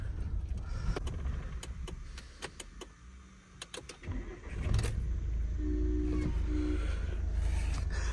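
Car engine cranking and catching on a snowy slope in Manali, with a whirring starter and bursts of engine noise, then a steady idle rumble for the second half, close and fairly loud.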